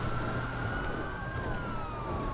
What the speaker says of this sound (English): they can't just follow us with their lights and sirens going